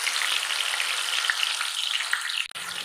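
Chicken pieces fry in hot oil with whole garam masala and bay leaves for a chicken korma, a loud, dense sizzle that holds steady and then dips abruptly near the end.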